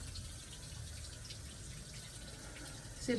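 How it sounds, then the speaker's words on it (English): Water runs out of an opened hose while a water pump is being bled, a faint, continuous rushing trickle that stays steady throughout. "I'm opening the hose right here, letting some of the water out"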